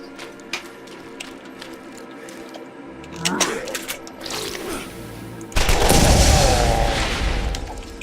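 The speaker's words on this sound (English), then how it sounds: "Another burst fire launcher." Burst-fire rocket launcher in the Zombie Island game, mechanical clicks and ratcheting followed by a loud, broad blast that rumbles on for a couple of seconds.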